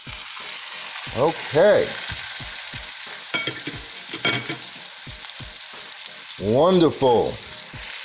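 A thick ribeye steak hits a hot pan and sears with a steady, crackling sizzle, while someone briefly speaks over it.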